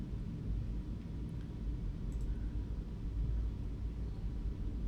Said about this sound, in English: I'm hearing a lot of thunder.